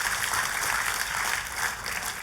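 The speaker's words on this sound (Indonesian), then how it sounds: "Kita kasih tepuk tangan yang meriah buat Tuhan." A church congregation clapping enthusiastically during a sermon, a dense, sustained wash of applause from many hands filling the room at an even level.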